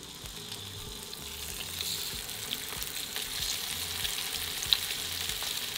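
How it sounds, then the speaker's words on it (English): Seasoned salmon pieces fry skin side up in olive oil in a pan over high heat, giving a steady crackling sizzle, close and even throughout, with a single sharp pop near the end. "Season the salmon pieces with 1/4 teaspoon each of salt and pepper, and then place in the pan, skin side up."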